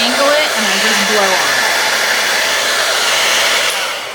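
Steady, loud rush of a blow dryer blowing air onto paper, continuous broadband whoosh with no talking, tapering slightly at the end.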